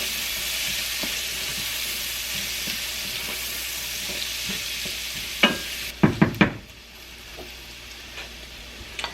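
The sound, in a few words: chicken sizzling and being stirred in a pan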